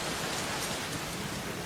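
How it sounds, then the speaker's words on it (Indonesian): Steady rain pours down just in front of a campus veranda, a dense, even hiss of drops on surfaces with no voices. "Air hujan tepat berada di depan mereka."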